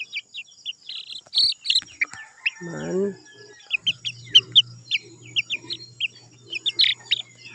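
Chickens cluck low and briefly nearby while high-pitched chirps and peeps repeat throughout, bright and close.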